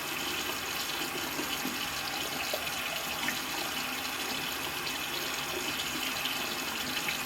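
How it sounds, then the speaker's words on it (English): Tap water runs steadily into a sink to rinse off a skin care product, a constant, even hiss of flowing water heard alone with no talking. "And again, we'll rinse this off."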